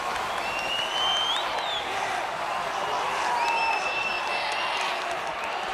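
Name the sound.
crowd cheering at a school swimming carnival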